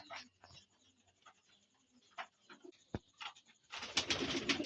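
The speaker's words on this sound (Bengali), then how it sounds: "এই যে এক পেয়ার হাই ফ্লাইং কবুতর" Pigeons of a Pakistani high-flying breed give a few short coos and calls near at hand, scattered over a quiet background, then a burst of wing flutter and rustling at the end.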